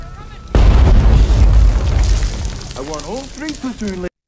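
A sudden loud film explosion from a North Vietnamese bombing attack on an Australian and New Zealand army base, a deep roaring blast that slowly decays while voices shout over the tail.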